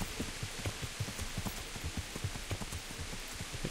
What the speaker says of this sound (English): It's really raining cats and dogs at the moment.